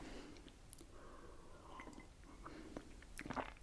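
A British biscuit is being chewed and crunched close up, with soft, irregular mouth sounds over a quiet hiss and no talking.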